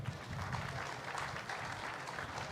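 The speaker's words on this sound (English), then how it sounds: "Let's clap for that." Audience applause at a Governor Hochul event marking a construction milestone, a steady wash of clapping from a crowd that holds at an even level for a few seconds.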